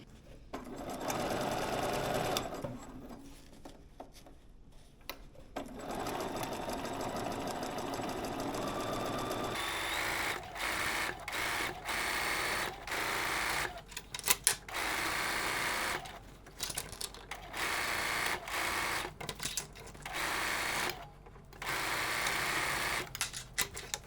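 A sewing machine with green thread stitches an angled seam on a quilted overnight travel bag, running in steady bursts of rapid mechanical whirring separated by brief pauses, close and loud throughout.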